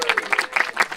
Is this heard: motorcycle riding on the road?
no